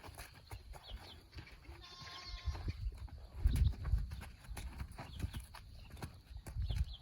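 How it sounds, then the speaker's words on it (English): A young horse being taught to walk in harness, hooves clip-clopping in an uneven, stop-start rhythm nearby. Birds and faint outdoor noise sit in the background, and a person can be heard speaking. "new baby horses, it's hard to get their feet moving and it's hard to steer"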